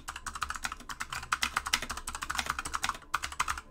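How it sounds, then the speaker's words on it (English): Rapid, loud clatter of keys on a computer keyboard during an Overwatch collegiate match stream, dense irregular taps running steadily throughout with no talk. "Stop making fun of my loud typing."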